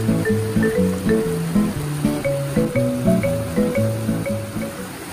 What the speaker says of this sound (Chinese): 先将溪水装满滤水袋